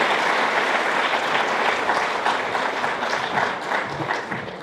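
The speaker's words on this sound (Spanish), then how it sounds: "Le podemos dar un aplauso." Audience applause fills a church Bible seminar hall after a closing prayer, a dense, steady wash of many hands clapping from start to finish, loud and continuous with no talk over it.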